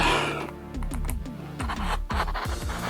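A blade cuts through the packaging of a sneaker box shipped from Japan, giving rapid, rhythmic scraping and tearing strokes that are loud and close, with no talking.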